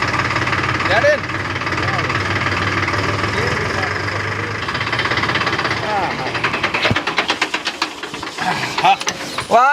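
A Mahindra tractor engine runs steadily at idle for most of the stretch, loud and close, then breaks into sharper irregular knocks and clatter toward the end, with people talking over it throughout.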